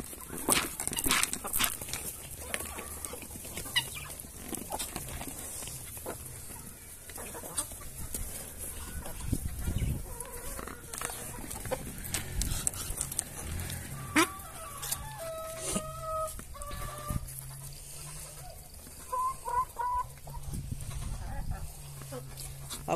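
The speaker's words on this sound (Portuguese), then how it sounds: "Olha como tão lindo esses patos." Farmyard ducks calling at close range with scattered quacks and clucks, under a woman's speech and rustling outdoor noise.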